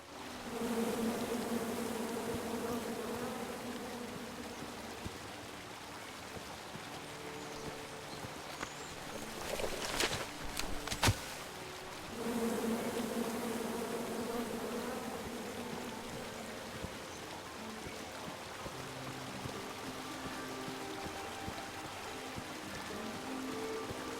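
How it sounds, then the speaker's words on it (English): A swarm of bees in the King's Quest video game buzzes steadily at moderate volume for the whole stretch, with a short burst of sharper sounds near the middle before the hum settles back in. "Come at me, bees!"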